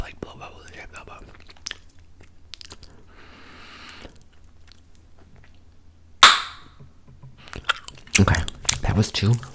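Close-miked gum chewing that starts quiet with sparse clicks and a soft rustle, then a sharp snap, then a burst of loud, rapid, wet chewing and smacking at the end, with whispering at moments.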